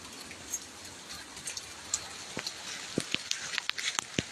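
Rain falls on a village near fields in Panna, India, with close, distinct drops tapping and pattering irregularly over a faint, steady background hiss.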